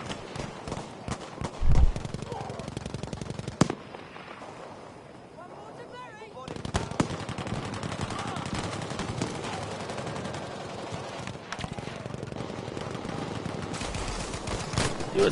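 Handgun fire crackles through a team battle in a T12 Frontlines video game match, with rapid overlapping shots and bursts continuing under a commentator's talk, easing briefly midway before resuming densely.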